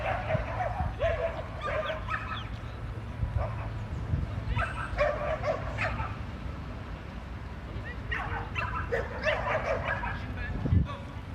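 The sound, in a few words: dogs barking at a dog training in France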